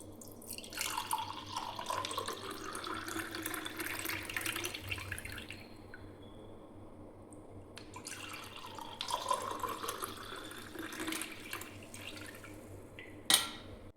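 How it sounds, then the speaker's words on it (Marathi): Homemade lemon sherbet strained into a glass, a soft trickling pour in two separate bursts with a gap between, faint and close, ending in a small sharp clink. "आता आपण मस्त ना हे गाळून घेऊया"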